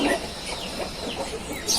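Aseel rooster on a farm, with close, repeated clucking calls over a busy background.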